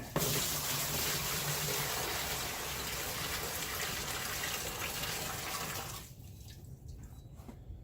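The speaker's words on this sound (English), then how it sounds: "now we're going to fill it up with some water" Water gushes steadily into a bucket for about six seconds, a loud broadband rush, then cuts off, leaving a few faint drips and clinks.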